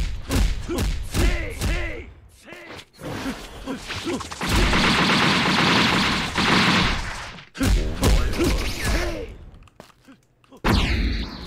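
A minigun fires in a video game: a dense, loud, continuous rattle of rapid shots lasting a few seconds, framed by excited voice chatter before and after.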